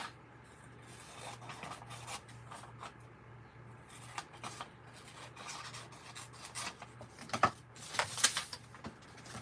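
Sheets of paper are cut down to copy-paper size for a craft project, giving quiet, close, irregular scratchy rubbing and snipping sounds with a few sharper crisp bursts near the end, and no talking.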